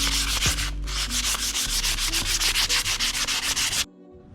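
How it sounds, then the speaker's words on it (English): Bassani exhaust pipes being sanded by hand with 80 grit sandpaper, a close, loud, rhythmic rasping of quick back-and-forth strokes that stops abruptly near the end. "I had to drop down to an 80 grit sandpaper because these Bassani pipes have some really deep lines"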